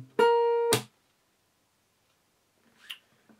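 D: Fingerstyle acoustic guitar playing a short phrase of a song starting from a slide, two sustained plucked notes close and clear, then near silence with a faint trailing pluck.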